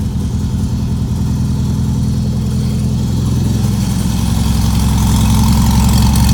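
An air-cooled 1964 VW Beetle 1641 cc engine with dual exhaust idles loudly and steadily up close, with a throaty, pulsing exhaust note that grows slightly louder.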